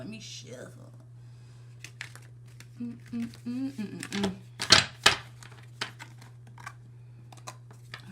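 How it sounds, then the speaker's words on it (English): Tarot cards are shuffled by hand in a quiet room, giving scattered soft riffling clicks and papery rustles with a brief burst of sharper snaps midway, after a short stretch of voice at the start. "let me shuffle"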